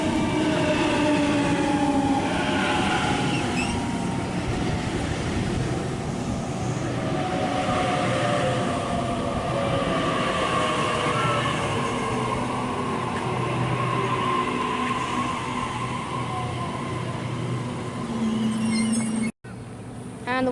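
A Sydney Waratah electric train arriving at Erskineville station makes a loud, continuous rumble with whining motor tones that shift in pitch as it pulls in close by.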